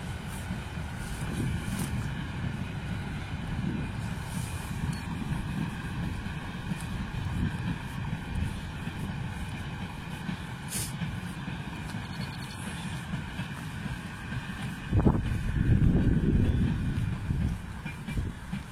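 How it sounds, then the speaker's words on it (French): A steady low rumble of a train rolling past fills the scene, with faint rhythmic clatter and a swell of wind noise near the end. "il y a le train qui passe"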